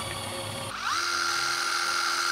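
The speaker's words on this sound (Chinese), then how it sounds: "所以呢，你一样快拆头装起来，把你要自贡螺丝的地方放好，往下锁，" A cordless impact driver fitted through a quick-release chuck drives a self-tapping screw, its motor whining up sharply after a brief quieter start and then holding a steady, loud, close high-pitched drone to the end.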